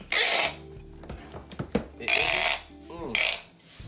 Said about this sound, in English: Sorry about my noisy tape.